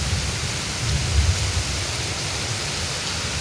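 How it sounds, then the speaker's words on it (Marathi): Heavy monsoon downpour with thunder outdoors, water pooling on the ground: a dense, steady roar of rain with a deeper rumble swelling briefly near the middle, no voices. "हे बघ किती पाऊस आहे."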